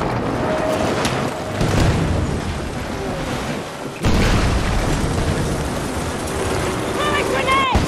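A grenade detonates in a Battlefield 2042 Breakthrough match, a loud dense blast amid constant battlefield noise, with a second heavy boom and a sharp jump in the din midway through.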